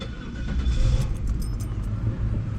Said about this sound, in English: this car turns on like a true champ